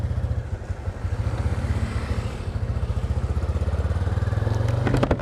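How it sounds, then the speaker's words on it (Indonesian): A custom motorcycle with a modified block and an FCC clutch lining putters along close by, its engine beating in a steady, rapid thump while being ridden to warm up. "kita akan coba muter sebentar nanti ya, kira-kira mungkin 10 menit teman-teman, supaya mesinnya sedikit lebih panas."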